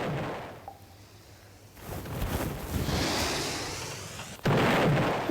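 Cannon fire aboard a pirate ship in the Roblox video game, with booming blasts and rushing whooshes over a wash of sea-like noise, ending in a sudden loud burst.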